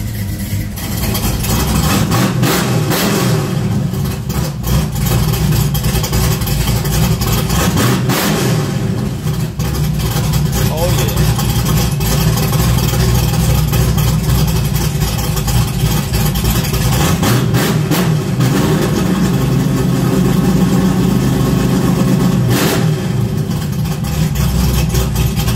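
A 1968 Chevelle V8 with open dump exhaust cutouts rumbles loudly and continuously, settling into a lumpy idle between several sharp throttle revs that swell and fall back, close by with no talk.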